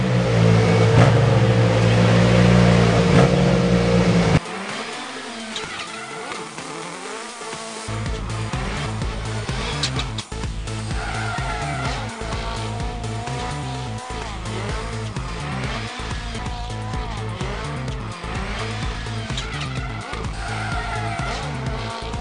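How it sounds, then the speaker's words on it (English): A radio control car zips around the Auto Week office, its small motor whining and revving continuously with skids and squeals. A loud burst opens the run, then comes a steady, busy buzz. "let's see what happens when we turn Jake loose with a radio control car and a camera around the Auto Week office"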